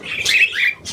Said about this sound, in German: Das ist der Ines-Vogel zu Bad Pyrmont